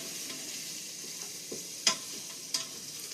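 Food cooks in a pan with a soft, steady frying sizzle, joined by a couple of sharp clinks from stirring, fairly faint and close, with no voices.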